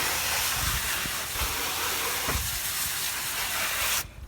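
Water sprays in a steady hiss as it rinses freshly treated trim coated with a Lithium trim restorer, conditioner and protectant, continuous and close, ending abruptly near the close.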